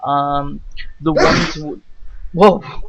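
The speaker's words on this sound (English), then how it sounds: "That was a sneeze, sorry." A sneeze bursts out in a podcast discussion about movie casting, sharp and close, with voices talking before and after it.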